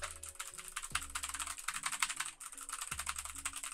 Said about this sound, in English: listen to me clack those keys